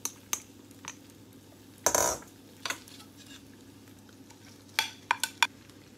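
Chicken pasta with ketchup and soy sauce being stirred in a pan, giving scattered clinks and scrapes of a utensil against the pan, with a few sharper knocks near the end and no talking.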